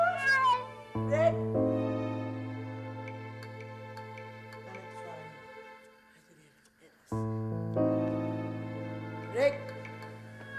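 A cat in a house meows several times, with drawn-out cries near the start and end, over sustained background music tones and a quieter stretch in the middle.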